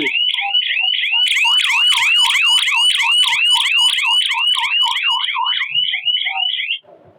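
A loud electronic security alarm siren wails in rapid repeating sweeps, close and piercing, cutting off abruptly near the end.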